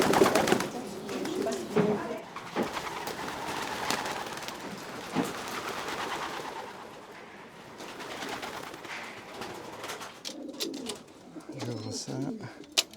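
Racing pigeons coo in a loft, with soft repeated calls and rustling over about thirteen seconds. Faint, indistinct voices can be heard in the background.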